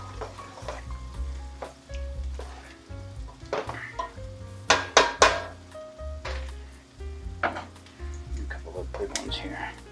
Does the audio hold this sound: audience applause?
no